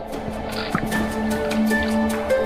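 Camels drinking water in the Thar desert, wet slurping and dripping sounds with soft splashes, close by, over a faint steady hum.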